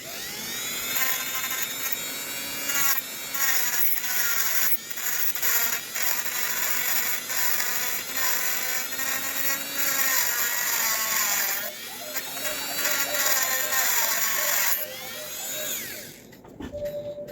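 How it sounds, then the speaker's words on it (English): A Dremel rotary tool whines steadily with a high, harmonic drone while walking a nut along a threaded rod during cuckoo clock movement repair, running close and loud for about sixteen seconds before cutting off. "when you turn on this Dremel, it's going to walk this nut up or down the stick, depending on which way it's positioned"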